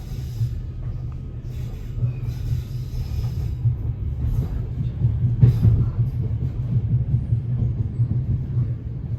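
A Merseyrail electric train arriving at underground Liverpool Central station, a steady deep rumble with a low mechanical hum building slightly, a few faint clanks and hiss near the platform, no talk.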